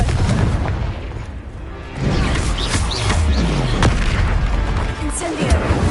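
Confringo blasting spell explosions in the Hogwarts Legacy video game, a series of loud booming blasts and crashes amid combat effects, several hits over a few seconds.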